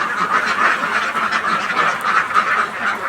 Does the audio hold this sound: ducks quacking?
yes